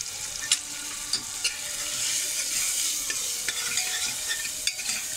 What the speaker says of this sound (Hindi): और मसाला फ्राई होने के लिए छोड़ देंगे।